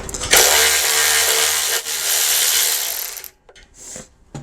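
A Milwaukee M12 cordless ratchet runs in a loud, close, rasping whir for about three seconds, with a brief dip partway through, then stops, followed by a couple of short quieter bursts.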